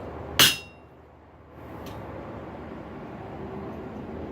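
A single sharp metallic strike rings out as a hammer hits a butcher tool on hot steel while a paddle bit is forged, followed by a fainter tap and low background hum.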